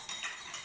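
Brief close stirring of flour batter with a utensil in a bowl, soft steady scraping with a couple of light swells and faint clinks, quiet and without voices.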